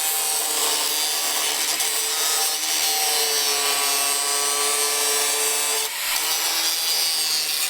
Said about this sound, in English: So I'm gonna take this flap disc, or maybe even a grinding wheel,